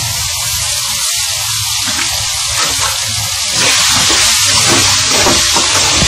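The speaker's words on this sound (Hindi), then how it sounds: "उसमें हम अब इसको फ्राई करेंगे और साथ ही हम इसमें शामिल करते हैं 7-8 कटी हुई सब्ज मिर्चें।" Chicken sizzles steadily in hot ghee with chopped green chillies for an Afghani karahi, a continuous broadband frying hiss that grows louder midway with no speech over it.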